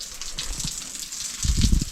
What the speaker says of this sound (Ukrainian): Ось дивіться, що відбувається, коли поливаєш.